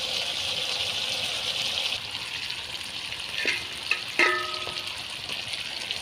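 Meat sizzling steadily in a pan while being cooked down for a Bengali curry, a continuous broad hiss with a few utensil clinks and scrapes near the end.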